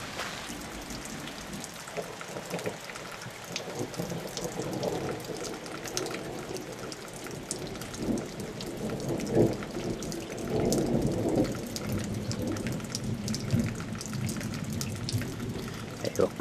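Thunderstorm at Kuusankoski with steady rain pattering on surfaces and rolling, distant thunder swelling and fading, loud and continuous, with someone speaking briefly over it.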